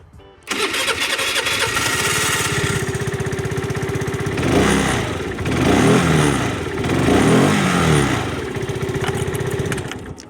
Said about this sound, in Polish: No ale satelicik odpala. Odpalmy sobie.